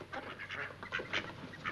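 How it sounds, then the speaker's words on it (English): Faint ducks quack in a short, scattered flurry, heard alone at a distance in an old comedy scene. "Where'd you get those ducks?"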